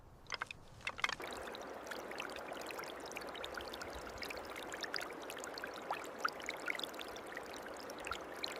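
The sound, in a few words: cold water rinsing raw bone material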